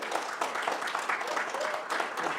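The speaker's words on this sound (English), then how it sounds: "So a round of applause, please." An audience at a talk claps together in a brief burst of applause, fairly close and even, with no distinct voices standing out.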